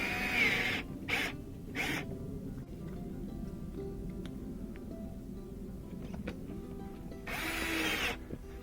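A cordless power tool drives small screws into a Toyota Prius rear bumper in a few short whirring bursts separated by quiet handling noises, close and fairly soft.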